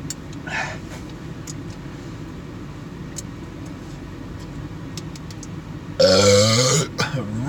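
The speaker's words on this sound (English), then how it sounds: "I gotta burp. I gotta chug this." A loud, long throaty burp after chugging a drink, coming near the end after a quieter stretch of low background rumble and a brief earlier sound.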